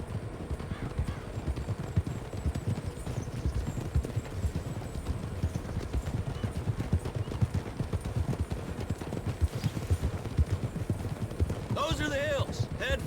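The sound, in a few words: horses' hooves clip-clopping, from video game Red Dead Redemption 2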